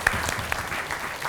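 Audience applause at a junior high school quick-answer quiz competition in Palembang, a brief, dense patter of many hands clapping at moderate loudness.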